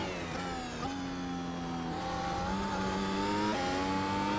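Simulated Formula 1 car at Interlagos in a VR racing game, on hard tyres: a steady, loud engine whine with several downward pitch steps as it brakes and downshifts, continuous with no talk.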